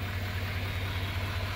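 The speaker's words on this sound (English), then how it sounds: "This is your 2018 Midnight Edition Z71 Duramax diesel. Have the engine on, it's purring." A 2018 Chevrolet Midnight Edition Z71 pickup with a Duramax diesel engine idles steadily, a low, even hum with a smooth, continuous rumble and no revving.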